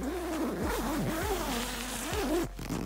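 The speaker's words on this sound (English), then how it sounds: "we're going to unzip this tent now" A tent zipper pulled open while camping, a near, loud rasping zip with several quick wavering strokes over about three seconds, ending abruptly, with no talk over it.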